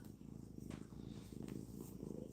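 A cat purrs softly and continuously in a quiet room, a low rhythmic rumble with no talking.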